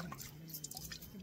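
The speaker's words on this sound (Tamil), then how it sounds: "நண்டும் எறாவையும் கழுவிட்டு இருக்கேன்" Crabs and prawns being washed by hand in lake water at Chembarambakkam lake during outdoor cooking, giving soft close drips, splashes and squishy wet handling sounds with no talking.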